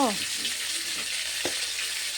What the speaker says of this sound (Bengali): পটল ভাজলাম,